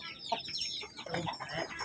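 Chickens cluck and squawk softly in a few short bursts at a modest distance, with no talking over them.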